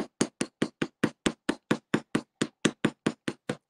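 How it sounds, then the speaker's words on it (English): A chasing hammer taps a metal amulet pendant during jewelry making, striking about seventeen crisp, evenly spaced blows in a steady close rhythm. "This is actually a chasing hammer"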